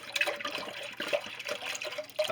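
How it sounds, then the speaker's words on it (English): Heavy whipping cream poured into a cold pan for homemade ice cream, a soft steady liquid stream splashing close by, with no talking. "Pour in your heavy whipping cream"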